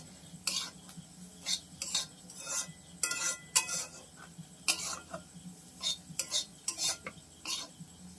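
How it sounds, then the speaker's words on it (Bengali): Lentils (dal) being stir-fried dry in a pan for khichuri, with repeated scraping and clinking strokes of a spoon against the metal in an irregular rhythm, close and moderately loud, no talking. "ডালটা সুন্দরভাবে ভাজা হয়ে গেছে"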